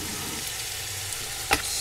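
Sweet potato pieces hit a hot frying pan and sizzle steadily, a loud, close, continuous hiss of frying with a brief clatter near the end.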